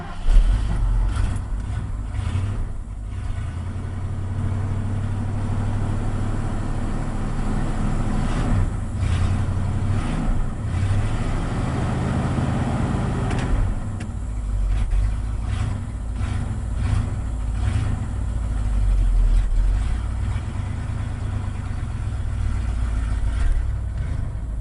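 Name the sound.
1980 Ford F100 engine cold start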